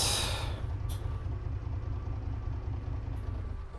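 A2A Comanche 250 aircraft engine idling in a flight simulator: a steady, low, pulsing rumble that runs throughout and eases slightly toward the end, with two brief faint higher clicks over it.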